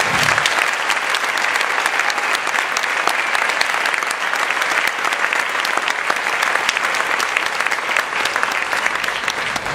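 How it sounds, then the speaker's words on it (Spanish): A large audience at a political discussion event applauds steadily, dense continuous clapping filling the whole stretch at an even, loud level with no pauses. "Un aplauso."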